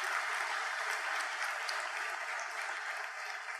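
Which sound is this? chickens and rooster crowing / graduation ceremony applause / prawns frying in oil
graduation ceremony applause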